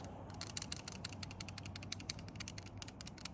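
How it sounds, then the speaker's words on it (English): Loose blade of a Medford OTF knife rattling rapidly, a dense run of sharp metallic clicks and ticks close up, steady and continuous without pause. "That rattle. This blade is all over the place."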